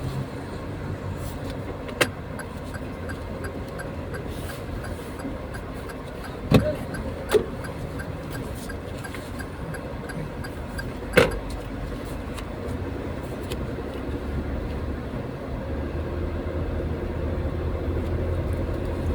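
A Toyota Raize crossover, turbo variant, hums along on a city test drive, steady muffled engine and road noise heard from inside the cabin, broken by a few sharp clicks and knocks.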